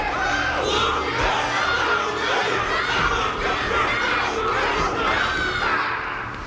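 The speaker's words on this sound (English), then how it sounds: "Everyone's cheering for you, Luca." A crowd in the video game Honkai: Star Rail cheers and shouts continuously at an event battle, a dense, loud mass of excited voices with no single speaker standing out.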